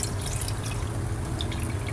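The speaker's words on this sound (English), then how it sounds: "pour the water in here." Water poured into a pot of rice while making homemade sushi, a steady, close rushing trickle of liquid that runs without a break and with no talking.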